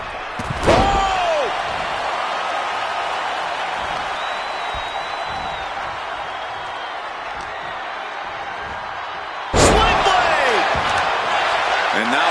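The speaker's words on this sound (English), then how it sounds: "Powerbomb onto the knee." A powerbomb onto the knee in a WWE 2K25 wrestling match produces two loud, sharp body-slam impacts on the ring, one near the start and one near the end, over a constant arena crowd roar.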